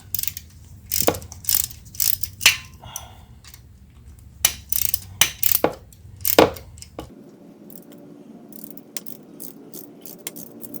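Ratchet clicks in short bursts as bolts are barely snugged down on a KTM Super Duke 1290 during an oil change, close and crisp, with tool clatter between strokes and quieter handling toward the end.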